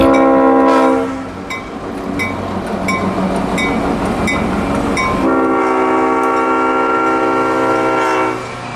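The CSX Clinchfield 800 locomotive on the Santa Train rumbles past close by, its loud horn sounding in long chords over clattering wheels and engine noise.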